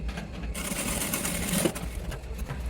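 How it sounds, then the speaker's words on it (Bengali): Sewing machine running steadily while stitching across a pant waistband at an angle, a close, continuous mechanical whir that picks up in intensity after the first half second. "এখানে সোজা সিলাই করবো না একটু অ্যাঙ্গেল করে দেব"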